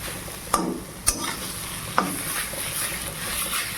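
Squash frying in a pan as it is stirred: a steady sizzle runs throughout, broken by three sharp scrapes of the utensil against the pan, with no talking.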